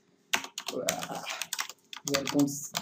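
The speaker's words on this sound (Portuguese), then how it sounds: "Tá difícil para mim digitar olhando para outro monitor." Rapid keystrokes on a computer keyboard while coding in Unity, clattering in irregular bursts close to the microphone, with a voice speaking briefly over parts of it.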